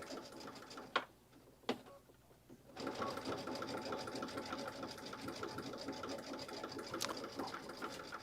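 Sewing machine stitching through rope, a steady rhythmic mechanical hum and ticking that starts after a few quiet seconds with a couple of faint knocks, running continuously at moderate, somewhat distant level.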